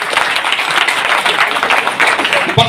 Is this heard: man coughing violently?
no